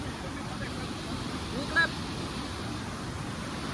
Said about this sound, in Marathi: आणि नदीला महापूर आलेला आहे